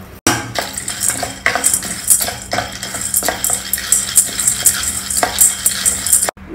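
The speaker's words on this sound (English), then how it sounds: "this roasted chana chutney dal, we'll just dry roast it for a couple of minutes" Roasted chana dal being dry roasted in a pan over a low flame, with a spoon stirring and scraping so the dry lentils rattle and rustle in close, steady repeated strokes.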